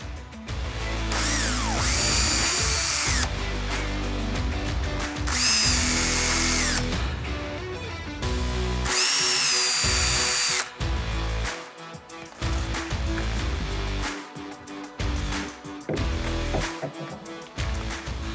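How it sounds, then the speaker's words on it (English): A power drill with a small pilot bit whines in three separate bursts while drilling screw holes in a fire door, each a few seconds long, with clunks and handling noises between the runs. "while I've got a little pilot drill out, I'm going to drill my extra holes for the extra screws"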